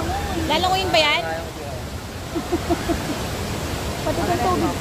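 A steady roar of water at Ambon-Ambon Falls in Panguil, Laguna, loud and close throughout, while people talk over it.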